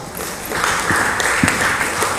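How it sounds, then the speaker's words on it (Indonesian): Audience at a school event breaks into applause, a dense burst of many hands clapping that starts quietly and swells to a steady, fairly loud patter. "Tepuk tangan untuk beliau berdua."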